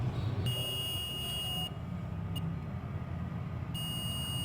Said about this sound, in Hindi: और प्लस बीप की आवाज़ भी कर रहा है